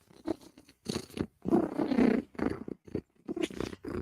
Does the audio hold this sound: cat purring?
yes